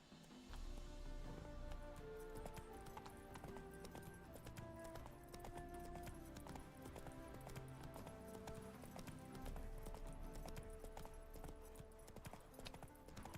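Horse hooves clip-clopping at a run in The Witcher 3, a rapid steady galloping rhythm with faint music-like tones underneath, continuous and fairly quiet.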